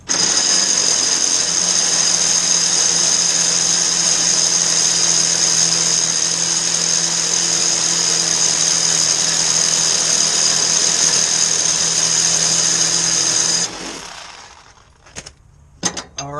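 A Kobalt power saw cuts through trailer spring bolts during a leaf spring upgrade, producing a loud, steady high-pitched whine for about thirteen seconds before it winds down, followed by a few brief clanks.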